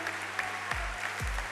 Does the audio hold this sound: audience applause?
yes